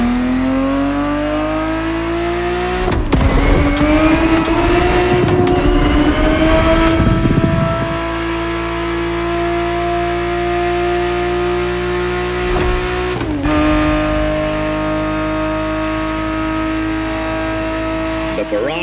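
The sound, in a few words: Ferrari 365 GTB4 car engine racing, video game The Crew Motorfest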